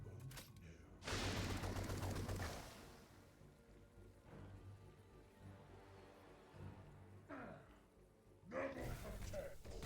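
Gunfire bursts from the Warhammer 40k Chaos Gate Daemonhunters video game ring out loud and close, a heavy volley early on and more shots near the end, with quieter game ambience and a voice talking in between.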